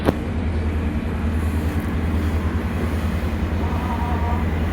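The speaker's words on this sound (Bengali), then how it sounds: "অবশেষে ট্রেনটা ছেড়ে দিল" A Durga Puja special train from Agartala to Dharamnagar pulls away from the station with a low, steady rumbling drone and faint rhythmic clatter, fairly loud and close, with no talk.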